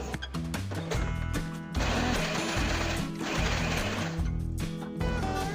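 A mixer grinder whirs in short bursts as milk cream is churned into butter, its motor revving up and stopping several times, close and fairly loud.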